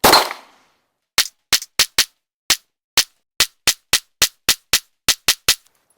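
Glock pistol fired at an outdoor shooting range, a steady series of about fifteen sharp, loud, separate shots at uneven intervals after a brief opening noise.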